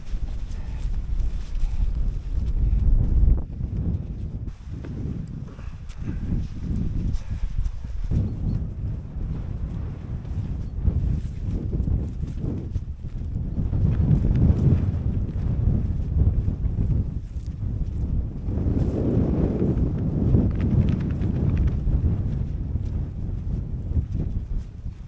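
Wind buffets the microphone on a hillside walk in the Cheviot Hills, a loud, continuous low roar swelling and easing in gusts for the whole stretch, with no clear voices over it.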